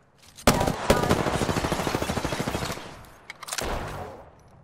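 Automatic gunfire in Apex Legends: a rapid, loud stream of shots with a sharp opening crack, then a short pause before another burst.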